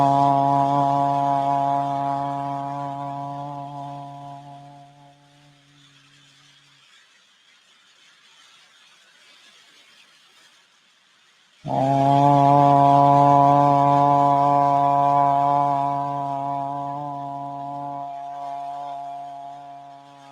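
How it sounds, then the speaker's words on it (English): A single voice intones a long sustained Om during chakra meditation, holding a steady hum before fading, then after a pause a second long Om begins strongly and trails off, resonant and alone. "We're going to use the sound of Om."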